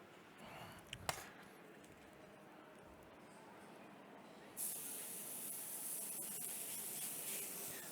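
Steak laid into a hot pan with fat starts to sizzle partway through, a sudden bright hiss that stays steady and loud after a quieter stretch of faint kitchen noise with a couple of knocks.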